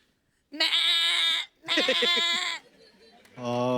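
A person's voice imitates a goat's bleat in three loud, wavering bursts separated by short pauses.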